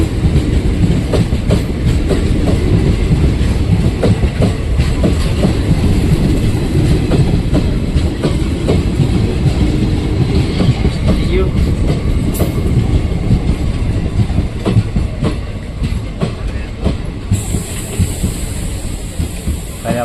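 A passenger train rolls past close by at a station crossing with a continuous heavy rumble and rhythmic clacking of wheels on the rails, easing slightly toward the end.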